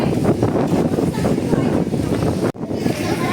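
Strong monsoon wind roars and buffets the microphone continuously at the coast in Dinahican, Infanta, Quezon, with a brief dropout near the end before the gusting resumes.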